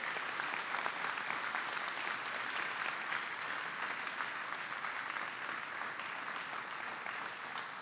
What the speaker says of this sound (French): Est-ce qu'on peut acclamer le Seigneur pour cela?